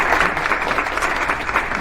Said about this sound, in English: Please join me in thanking Mr. Mahmoudi by a big round of applause.